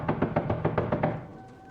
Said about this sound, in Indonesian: tiba-tiba terdengar seseorang mengetuk pintu